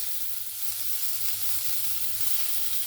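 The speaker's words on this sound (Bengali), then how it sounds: "এখানে দিয়ে দেব পেঁয়াজ।" Two large onions frying in a wok for a chicken curry, a steady loud hissing sizzle holding constant throughout with no talking.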